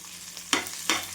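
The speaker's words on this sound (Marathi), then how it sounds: "छान भाजून घेऊ या तेलामध्ये" Cumin seeds roast in oil in a pan that already holds tomato and tamarind for a tondli chutney. Two sharp stir-scrapes land over a faint, steady sizzle. No one speaks.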